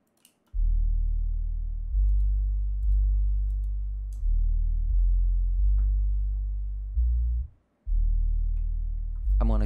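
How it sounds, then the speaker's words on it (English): A series of deep, booming 808 kick drum hits plays in an uneven beat pattern, each one with a long decaying tail. The hits are loud and clean, with a brief gap near the end. "So the first sound I made when I made my drums was my 808,"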